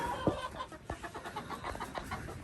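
A few short, low clucks from a chicken close by, spaced irregularly against a faint background hum.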